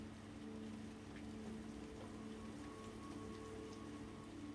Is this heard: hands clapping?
no